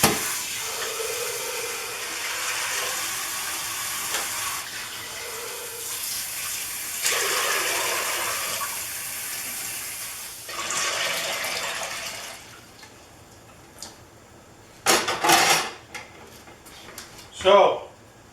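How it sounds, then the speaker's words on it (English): Tap water pours into a pot of dried beans in a kitchen, several bursts of running and splashing water separated by pauses, fairly close, with a person talking over the first part. "fill it with water."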